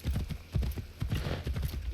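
Galloping horse hooves in Assassin's Creed Shadows on a ride through the Japanese countryside: a fast, close, rhythmic clip-clop of heavy footfalls at a steady pace, faint speech under it.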